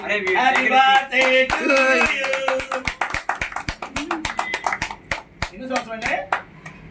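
Several people clap by hand in an irregular, uneven burst of sharp close slaps that gradually thins out, with voices talking and laughing over the clapping at the start and end.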